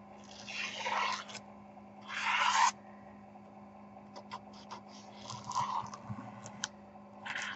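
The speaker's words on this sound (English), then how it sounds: "I tend to use my nails to go around the edges." Fingernails burnish the paper edges of a junk journal, making short, dry scraping rubs in separate bursts with pauses between, close and fairly faint against a quiet background, with no talk.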